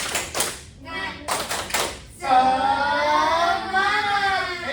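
A group of students performs the Tepuk Semangat clapping chant during a group counseling practice session: a few quick bursts of clapping, then a sustained chanted voice.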